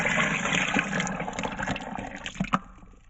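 Plant-based milk pours into a blender with a gushing, splashing rush that fades toward the end, ending in a few small drips and knocks, close and without speech.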